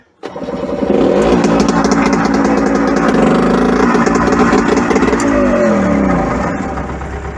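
An MTZ-80 tractor's diesel engine starts abruptly and settles into a loud, close, steady running rumble, idling evenly for several seconds.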